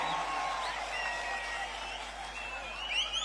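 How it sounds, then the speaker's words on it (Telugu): Crowd applause at a public rally in Kuppam, a steady wash of many hands clapping at moderate distance, sustained and even throughout with a slight swell near the end. "గట్టిగా చప్పట్లు కొట్టి కూడా చెప్పండి ఆమోదిస్తామని."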